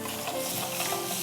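Marinated meat kababs shallow frying in a pan give off a steady, dense sizzle that holds at an even level throughout, with no voices.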